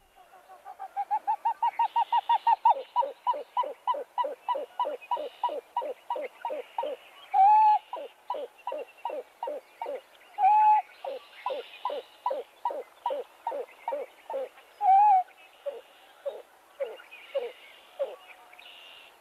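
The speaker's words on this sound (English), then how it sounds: "This is the owl hoop call." A long owl hooting sequence: rapid, evenly spaced hoots that start quick and gradually slow, with a few longer, louder notes mixed in, clear and close.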